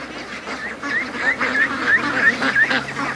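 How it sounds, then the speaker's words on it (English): Ducks in a muddy free-range pen give a run of short nasal quacks and honks at a steady pace, fairly close, over soft outdoor background noise. "He shouldn't be with these ducks."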